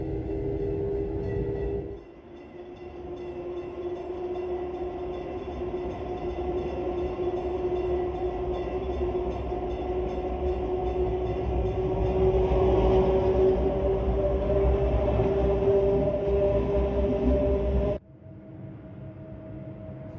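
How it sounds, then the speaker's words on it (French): Bernina Express train of the Rhaetian Railway rolling on its rails, a steady close rumble and whine that swells in the middle before dropping away abruptly near the end. "Le dernier kilomètre conduit au terminus du chemin de fer Rétique"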